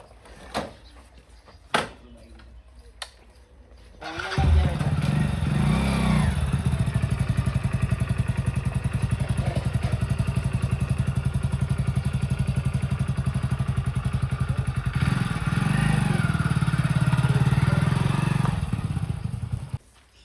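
A few clunks and knocks come first, then a motorcycle engine starts and idles loudly and steadily nearby before cutting off at the end.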